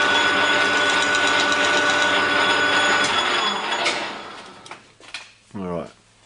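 A lathe spins a PVC barrel held tight against the tailstock, giving a loud, steady mechanical whir that runs down and stops partway through, then quieter clunks and handling noises follow.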